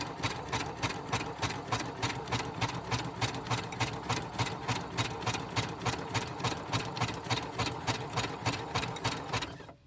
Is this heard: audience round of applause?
no